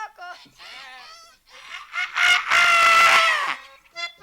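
A human voice imitates a rooster crowing cock-a-doodle-doo in a few short, loud calls that build to a long, strained crow near the end, with a brief call afterward.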